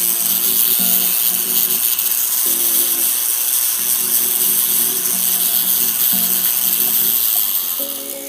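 A helix ring being smoothed by hand with a tool, a close, loud and steady rasping scrape in repeated strokes, continuous through the whole stretch with no talk.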